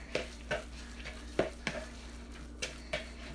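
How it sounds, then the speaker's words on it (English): A spoon stirs egg through a pink salmon patty mixture in a bowl, giving a series of sharp, close clinks and scrapes at an uneven rhythm against a quiet background. "So now we got the egg mixed up in there."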